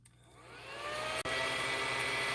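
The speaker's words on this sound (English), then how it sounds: "Can you hear the vacuum going? It sucks up the scratch dust on the table." A small handheld mini vacuum runs steadily on a tabletop, sucking up scratch-off dust, a continuous close whine that builds after switch-on with a brief dip midway.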